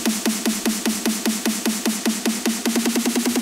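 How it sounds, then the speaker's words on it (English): Snare drum roll from a MIDI loop, a steady, fast train of evenly spaced bright hits with a bright, noisy character, repeating without pause at constant loudness. "So if I have something like a snare drum loop"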